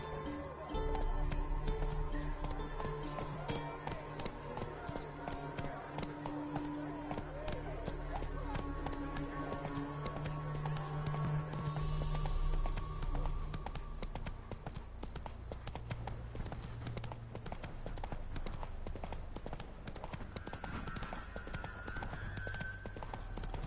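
Roach the horse gallops in The Witcher video game, a steady rapid clip-clop of hooves running continuously under a layered game soundtrack, with a voice urging the horse on.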